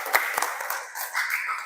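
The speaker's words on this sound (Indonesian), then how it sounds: "Beri tepuk tangan buat kita semua." Classroom applause from students after a group chemistry answer on solution concentration, a short burst of scattered clapping with a few sharper claps, moderately close in a room.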